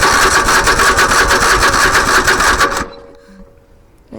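An old engine that has sat unused for over 15 years cranks on its starter with the choke on, a loud rhythmic churning for almost three seconds that then cuts off into near silence.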